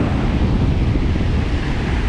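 Heavy, constant low rumble of wind and rain buffeting a GoPro camera covered in water and mist during a winter 4x4 trip on K'gari Fraser Island, loud and close with no voices.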